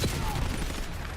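Hip-fire gunfire in a Call of Duty: Black Ops 7 esports match, a dense burst of loud shots over a constant game soundscape with a crowd-like background wash.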